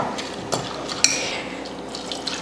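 Water poured into raw chana dal and moong dal lentils in a pot for chow chow kootu, a steady pour with a couple of light clinks of utensils, close by and without talk.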